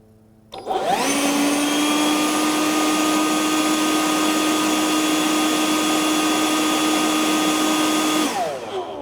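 A DEWALT 60V brushless leaf blower spins up and roars on turbo setting, a loud steady whine held for several seconds before winding down.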